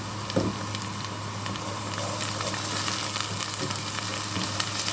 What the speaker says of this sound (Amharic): እንደዚህ እየተቆላላ ነው ሽንኩርቱ። አሁን ዘይት እጨምራለሁ።